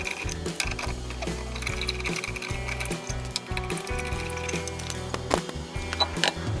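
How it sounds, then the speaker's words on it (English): A worn rear wheel bearing on a 2005 Suzuki Swift grinds and clicks as the jacked-up wheel is spun by hand, a close rough rumble with ticking mechanical rattles. "You can hear the noisy bearing when we spin it."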